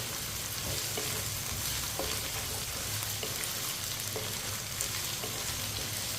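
Potato and okra pieces frying together for aloo bhindi, a dense, continuous close sizzle with light clicks of a spoon stirring throughout.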